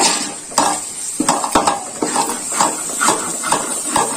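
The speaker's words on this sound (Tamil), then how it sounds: "இஞ்சி பூண்டு பச்சை வடை போற வரையும் நல்லா வதக்கிக்கலாங்க" Ginger and garlic sauté in an oiled pan for chicken biryani, a steady sizzle broken by regular spoon scrapes and clinks against the metal, close and fairly loud.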